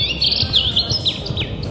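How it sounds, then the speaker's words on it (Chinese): A bird in woodland near Yining repeats quick, high chirping calls close by, several bright tweets in rapid succession over a low background hum. "但是它林子里面一直在响一个鸟叫声"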